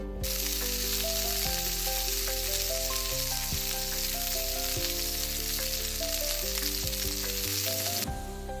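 Two cups of chopped onions fry in hot mustard oil, giving a steady, dense sizzle that crackles throughout. It is close and loud, with no voices.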